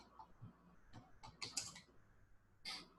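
Fingers typing on a computer keyboard during a software training session, quiet uneven bursts of key clicks with brief pauses, a few sharper taps standing out, no talking.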